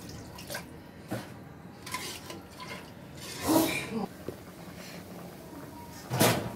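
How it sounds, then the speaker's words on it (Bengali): A thin stinging catfish curry comes to a boil in a pot, quiet, sparse bubbling with occasional louder gurgling bursts and pops, close and without talk. "দেখো, মাছের ঝোলটা বলক আসছে"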